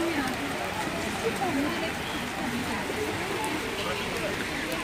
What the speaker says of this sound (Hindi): अभी बारिश भी तेज़ हो गई है